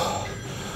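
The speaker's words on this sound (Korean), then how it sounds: "잠깐 전화가 자꾸" A telephone rings insistently during a back-workout session in a gym. The ring is a brief, steady electronic tone that lasts under a second, with no voices over it.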